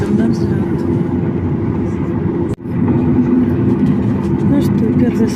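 A passenger airplane taxiing toward takeoff at Vancouver, heard from inside the cabin as a steady, loud engine drone with a brief dropout midway.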